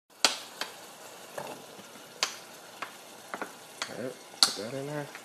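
Onions frying in a pan for sofrito, heard as a series of separate pops and crackles, some sharp and close, spaced irregularly over a soft background sizzle.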